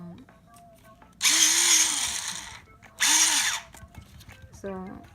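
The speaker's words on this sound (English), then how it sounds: "this is one electrical eraser" Electric eraser at a kids' study desk, whirring in two short bursts of about a second each, close and fairly loud, with quiet pauses between and faint background sounds.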